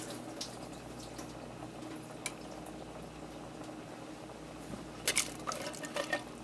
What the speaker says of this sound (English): I'm going to drain out the juice of the green beans